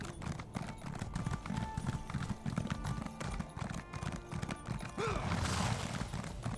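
Horse hooves clip-clop steadily in The Elder Scrolls Online, a continuous rhythmic trot heard up close alongside in-game ambience and occasional short whinny-like sounds.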